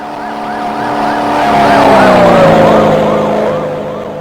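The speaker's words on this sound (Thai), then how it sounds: "เสียงโคตรดังอ่ะ รถตำรวจทุกคน" A police car siren in the horror video game Teke Teke: Moonlit Dread wails in rapid repeating rises and falls, swelling loud as it passes and then receding.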